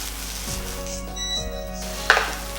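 Egg fried rice with spring onion tossed in a pan, a soft steady sizzle with a couple of scraping swishes and one sharp metallic clink near the end, close and without talk.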